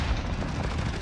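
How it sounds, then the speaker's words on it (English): Gunfire in Call of Duty Modern Warfare multiplayer, a dense, continuous burst of rapid shots and booms with no talking. "I hear shots"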